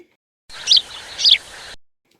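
Two short, bright sparrow chirps ring out about half a second apart over a faint hiss, close and clear.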